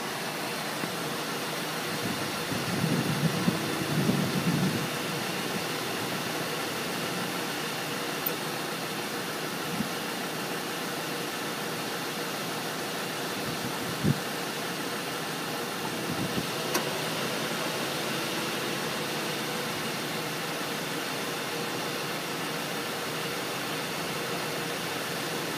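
A 2005 Cadillac DeVille's 4.6-liter engine idles steadily throughout, a low continuous hum with a broad airy hiss over it, broken only by a few faint clicks and bumps.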